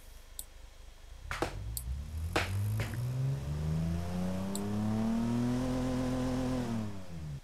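A 2.5-litre six-cylinder engine from the Automation car-building game, heard after a few clicks: it starts up, then revs in a long, smooth climb with rising harmonics before easing back, loud and alone.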